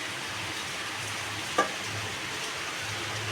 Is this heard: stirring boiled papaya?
yes